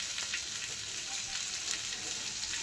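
Ghee spooned onto hot charcoal for smoking a fish dish, giving a steady, fairly quiet hiss and sizzle that holds throughout with no talking.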